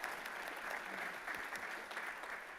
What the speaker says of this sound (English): and round of applause again for them.